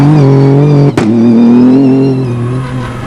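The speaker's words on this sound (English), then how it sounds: "Sebastian Loeb in the BRX ProDrive Hunter opens the road for the cars" BRX Prodrive Hunter rally car on a Dakar stage, its engine droning loud and steady, then revving sharply with a quick gear change before holding high and easing away.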